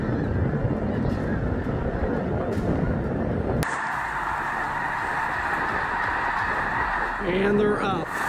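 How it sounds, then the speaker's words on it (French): A large flock of snow geese at Merrill Creek Reservoir, USA, honks continuously, a dense, raucous chorus that carries on throughout, with a few louder nearby calls toward the end. "Une grande colonie d'oies des neiges est apparue au réservoir de Merrill Creek"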